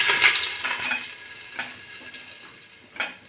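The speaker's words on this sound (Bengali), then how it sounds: "আমি প্রথমে 1 চামচ 5 ফোড়ন দিয়ে দিচ্ছি তেলের ভিতরে। তারপরে দিয়ে দিচ্ছি তেজপাতা" Panch phoron spices and a bay leaf sizzle in hot oil for khichuri. The frying hiss is steady and close, with a few sharp crackles and pops and no voices.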